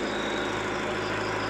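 A new silent-type 35 KVA diesel generator set runs at a steady idle right after starting. The engine hum is even and continuous with no talk.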